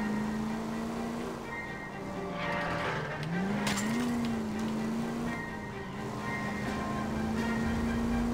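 Car engine drones steadily through a chase in the Nintendo Switch version of L.A. Noire, with tires squealing briefly mid-drive, a sustained close game soundtrack of motor and skid noise.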